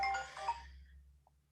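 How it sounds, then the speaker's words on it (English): A mobile phone ringtone chimes with a short burst of bright tones that fade quickly, followed by a faint single blip. "Sorry, my phone."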